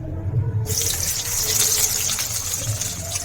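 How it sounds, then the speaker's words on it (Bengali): Eggplant pieces drop into hot oil and a sudden, loud, continuous frying hiss starts and holds steady, close by, with no voices. "যেহেতু বেগুনগুলো খুব নরম জিনিস এই জন্য বেগুনগুলো আমি প্রথমে ভেজে নিচ্ছি"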